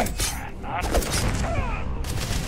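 Gunfire in the space game Starfield, a dense burst of shots and booms fired alongside a large robot companion, loud and continuous for a couple of seconds under someone shouting.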